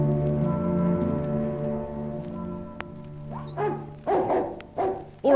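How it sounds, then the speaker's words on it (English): A dog barks several times in short bursts near the end, loud and close, after a stretch of steady low hum with no talking. "All right, boy. Good dog, Sherry, good dog."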